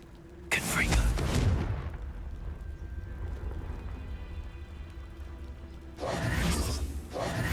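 Fiery spell blast going off in the Hogwarts Legacy video game, a loud broadband burst at the start that fades into a low rumbling ambience, with a second strong surge near the end.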